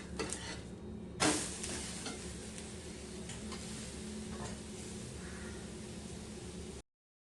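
Steady, soft sizzling of dhirde batter frying in oil on a griddle, a continuous fizzing hiss with a couple of brief clinks, then it cuts off.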